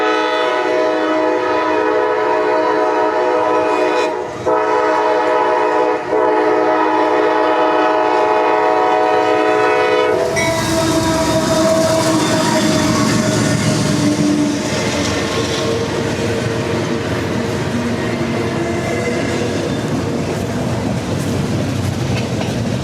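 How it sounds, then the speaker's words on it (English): A freight train rolls through Madisonville, Kentucky, first with a long, loud sustained horn blast for about ten seconds, then the heavy rumble and rattle of cars passing close and continuously. "So here comes our train."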